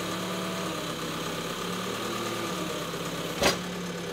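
The engine of a City Ranger 3070 utility machine idles at a steady, even rumble, close by, with one brief knock near the end.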